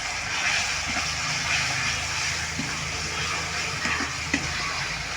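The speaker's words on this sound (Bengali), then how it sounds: "ভালো করে মশলাটাকে কষিয়ে নেবো আমি" Masala paste with green chilli paste fries in a pan for a jackfruit and prawn curry, giving off a steady, close hissing sizzle with a few soft stirring scrapes.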